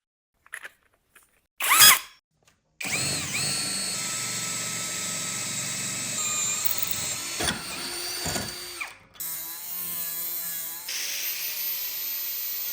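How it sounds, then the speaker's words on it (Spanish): A 40 mm hole saw is driven by a drill through a workpiece, a steady, loud whining grind lasting several seconds after a few brief knocks, with short dips and a change in pitch near the end. "Con una corona de 40 milímetros de diámetro, perforaremos un agujero en el centro."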